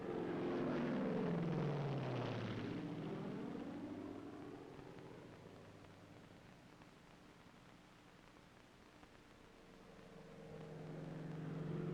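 Propeller cargo planes pass low over an Army pathfinder drop zone, a loud droning engine roar that sweeps through with falling pitch as it goes by, fades, then a second aircraft's drone begins building again.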